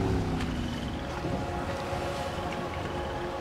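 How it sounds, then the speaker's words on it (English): Boat engine cutting off in the video game Max Payne 3, a low rumbling motor with a steady water and wind wash that fades slightly as it runs down. "I'm gonna cut the engine."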